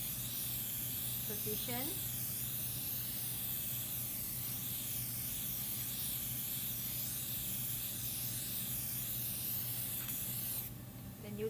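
Water spray rinses the face during an Astrodome facial treatment, a steady hissing spray running continuously through the clip, with a brief voice near the start.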